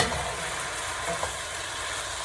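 Food frying in a pan on a home stove, a steady broadband sizzle that holds at an even level throughout, close and unbroken, with no voices.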